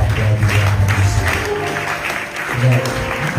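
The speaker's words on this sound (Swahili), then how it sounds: "Mpe Bwana makofi mazuri na shangwe na vigelegele" Church congregation applauding and cheering during a morning service, steady dense clapping mixed with voices and crowd noise throughout, loud and close.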